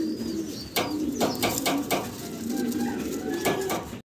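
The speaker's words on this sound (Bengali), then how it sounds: "চমৎকার এক জোড়া মডার্না কবুতর দেখাচ্ছি আপনাদেরকে" A pair of Modena pigeons on a farm giving soft coos close by, mixed with sharp clinking and rattling like metal dishes, and a faint voice now and then.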